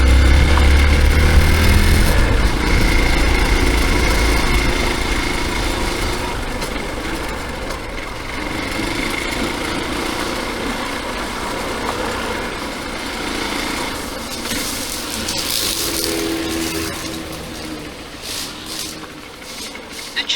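A motorcycle engine idles steadily close by, loudest in the opening seconds and then settling into an even, continuous running note with no voices.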